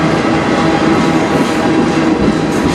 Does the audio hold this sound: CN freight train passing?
yes